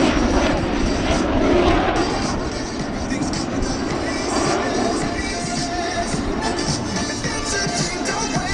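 US Navy Blue Angels jets fly at the Vero Beach air show, a loud, broad roaring rush that holds steady and then slowly eases, with an announcer speaking over the PA underneath.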